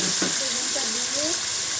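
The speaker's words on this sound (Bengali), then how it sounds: "তেলটা গরম হয়ে গেলে এতে দেব কেটে রাখা বেগুন।" Hot oil steadily sizzling in a heated wok with cut eggplant added, a constant close hiss filling the short moment alongside a few faint wavering tones.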